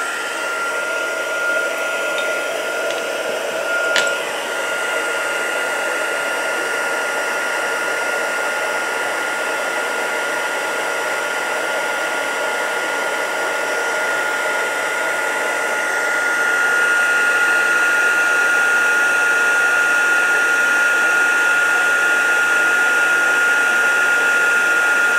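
Heat embossing tool warming embossing powder on regular cardstock at setting 2, a steady blowing hum that runs alone for the whole stretch and grows slightly louder partway through, with a thin high whine.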